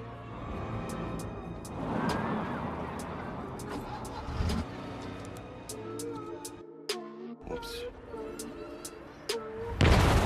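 Car explosion in an action film about a retired soldier turned mercenary, one of a cartel boss's escort cars blown up: a rumbling vehicle scene with sharp bangs and a loud burst near the end, set among a music and effects soundtrack.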